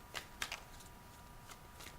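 Tarot cards are shuffled in quiet, brisk riffling bursts, several short flutters spaced across a couple of seconds with no talking.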